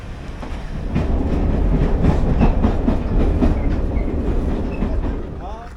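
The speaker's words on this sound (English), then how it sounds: "the DMU approacheth" Diesel multiple unit train approaching on the Great Central Railway heritage line during a rail and ale event, with a steady, loud rumble and rhythmic clickety-clack of wheels close by.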